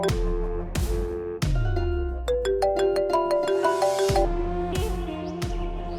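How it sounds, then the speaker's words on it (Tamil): A mobile phone rings with an incoming call in a Tamil TV drama scene, a melodic electronic ringtone with repeated tones and a rising note sequence, close and clear with no talk over it. "எதுக்கு இத்தனை டைம் ஃபோன் பண்றா?"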